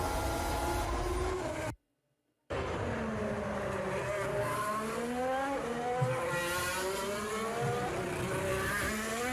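Formula One cars scream past at the Monaco Grand Prix, several high-revving engines overlapping with rising and falling pitch, loud and continuous, broken by a brief silent gap.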